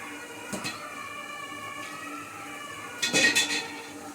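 A spoon stirs a mixture of mung dal, cardamom, sesame, flour and coconut in a metal vessel for sweet pidi kozhukattai, giving two short clinking scrapes, one faint and one louder near the end, with quiet background between.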